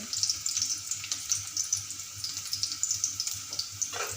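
Chopped onion cooking in a pan until golden brown, a steady soft sizzle with faint crackles and light scraping underneath, close and continuous with no one speaking.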